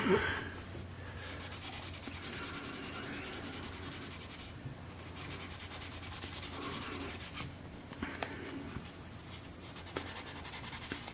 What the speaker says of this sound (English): Give this another little sanding.